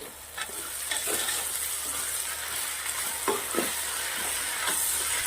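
Pulao with turmeric and whole garam masala stirred in a hot pan, a steady sizzle under repeated scraping strokes of the spoon, close and fairly quiet, with no talking.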